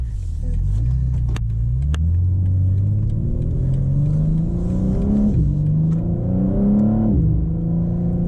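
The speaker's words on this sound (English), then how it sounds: "And now we're going to get the cracks and burbles as I let off the gas." A 2023 BMW M4 Competition Convertible engine heard from inside on a night drive, a loud steady drone climbing through gears with shift dips and faint exhaust crackles as the throttle lifts.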